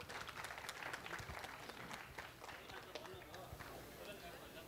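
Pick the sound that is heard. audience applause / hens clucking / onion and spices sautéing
audience applause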